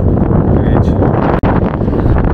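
Strong wind blows across Bolonia beach in Andalusia, roaring loudly and continuously as it buffets the microphone. The roar drops out for a split second partway through.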